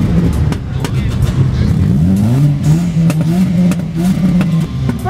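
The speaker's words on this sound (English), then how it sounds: "How do you cut the exhaust off or something?" A car with a cut exhaust revs loudly at close range, its engine note rising and holding in a throaty drone, with voices faintly underneath during a large car run in Hout Bay, Cape Town.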